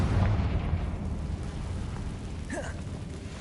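A Confringo fire spell explodes in Hogwarts Legacy: a low, rumbling burst heavy in the bass that swells at the start, then rolls on as a sustained roar, with a brief higher whoosh near the end.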